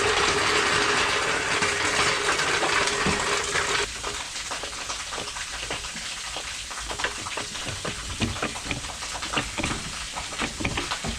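A scissor-style car jack is cranked by hand to lift a vehicle during a midnight roadside tire call-out, giving steady close ratcheting clicks over a constant background hiss that drops partway through.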